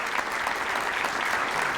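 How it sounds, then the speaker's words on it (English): Breakfast-event audience at a chamber of commerce gathering applauds young people, steady moderate clapping from a crowd, continuous and even. "Give them a big round of applause for getting up so early."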